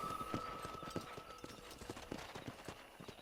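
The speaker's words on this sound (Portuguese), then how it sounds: "Eu tô tentando mexer a porcaria do cavalo" A horse's hooves clip-clopping in the video game Red Dead Redemption, a steady walking rhythm of soft thuds with a faint tonal hum beneath.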